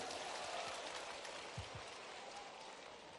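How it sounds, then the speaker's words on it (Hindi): An audience at a youth dialogue event in Gwalior claps, a dense, even wash of applause that holds steady for about three seconds and eases slightly at the end, with no voices. "जोरदार ताली बजाओ इनके लिए भी।"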